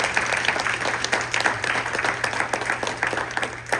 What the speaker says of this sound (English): I give Tom a big round of applause.